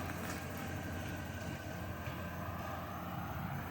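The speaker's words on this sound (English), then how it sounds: "You can hear Carlos in the background on his tractor, his happy place" A tractor engine drones at an apiary, a steady distant rumble with no breaks in the background.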